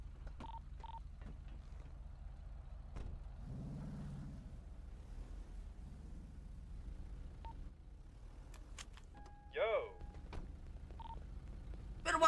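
Touch-tone dialing beeps from a phone in Grand Theft Auto role-play, a few short, faint tones scattered over a quiet background with a brief louder burst near the end.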